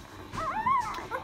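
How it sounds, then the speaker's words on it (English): Newborn puppies from a fresh litter whimper and yip in a quick run of rising and falling high-pitched cries, close and clear over a quiet room. "these are my puppies"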